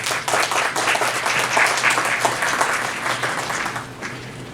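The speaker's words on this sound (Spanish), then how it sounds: "Un aplauso para nuestro ponente, por favor." An audience at a talk on systemic and postmodern practice gives the speaker a sustained round of dense applause, steady for several seconds before easing slightly toward the end.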